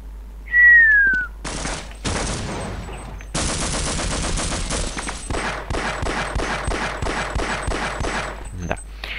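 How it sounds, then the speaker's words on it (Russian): Gunfire in the Half-Life mod The Xeno Project: a rising whistle, then bursts of rapid machine-gun fire with sustained rattling volleys, loud and close. "По мне стреляет."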